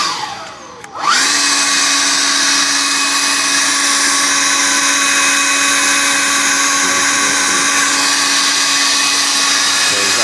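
Kobalt 40V battery backpack leaf blower kicks on after a second of quiet and holds a loud, steady whining roar on turbo, with a strong tonal hum and broad airy hiss, running alone for about nine seconds.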